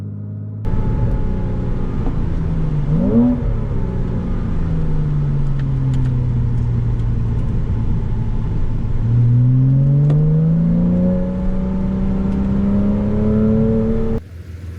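A Porsche Carrera S engine drones steadily close by, its pitch rising and falling as it accelerates, shifts and cruises along a German driving road.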